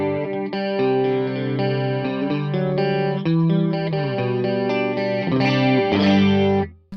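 An electric guitar run through a Fractal FM9 strums chords with a wavering, shimmering sine-wave chorus effect, loud and continuous before stopping abruptly at the end.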